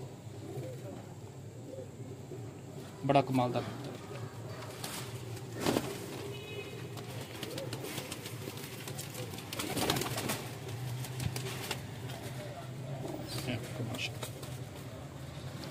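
Pigeons coo softly in the background at a breeder's loft while someone talks over them almost constantly, with a few louder clatters and bumps nearby.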